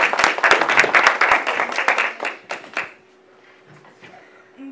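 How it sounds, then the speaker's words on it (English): An audience at a middle school talent show claps for a group about to present, with a short burst of loud, sharp individual claps that thins out and fades to quiet after about three seconds. "Round of applause for them."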